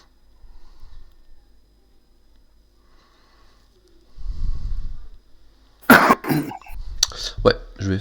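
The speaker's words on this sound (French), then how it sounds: "j'ai une vieille toux en plus" A person coughs several times in quick harsh bursts with some throat clearing, close and loud, after a quiet stretch with faint murmuring.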